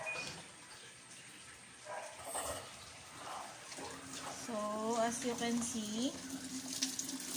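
A Panasonic automatic washing machine runs a tub clean cycle as its drum fills with water, giving a steady, soft rushing flow from the inlet beneath a person talking close by.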